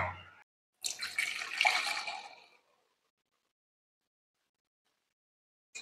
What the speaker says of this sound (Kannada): ಇವಾಗ ಇಷ್ಟಕ್ಕೆ ನಾನು ನೀರು ಹಾಕೊಳ್ತೀನಿ ಈಗ